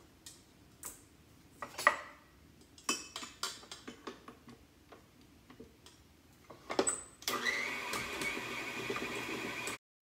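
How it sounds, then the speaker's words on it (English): Tortilla dough being handled gives several close clicks and knocks, then a stand mixer starts kneading it, its steady whirring drone continuing loudly for a few seconds before cutting off. "So I have a mixer here that I will be kneading the dough for probably 5 minutes"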